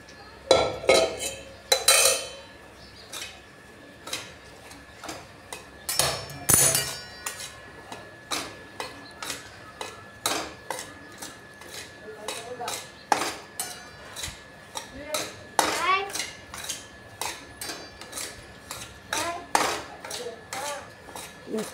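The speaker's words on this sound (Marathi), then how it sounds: "आता आपण रव्याला चांगलं भाजून घ्यायचं आहे।" Semolina roasts in ghee while a spoon scrapes and clinks against the pan in steady, repeated strokes, close and distinct over a faint background.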